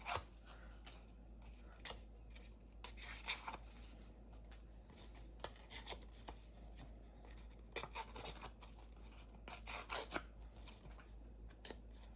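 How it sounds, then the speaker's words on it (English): Paper tears by hand around the edge of a card tag for a distressed look, with soft, intermittent ripping and rasping close by and quiet between them. "just start ripping it so you make that little distressed edge"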